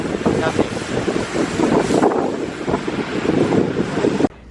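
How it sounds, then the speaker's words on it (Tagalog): Strong gusty wind buffets the microphone outdoors, a loud continuous roaring rumble that fills the clip before cutting off abruptly near the end. "Super hangin."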